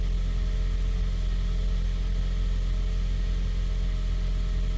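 A car engine with a suspected bad ignition coil idles steadily, a dense, continuous low rumble at even loudness. No distinct misfire hits stand out.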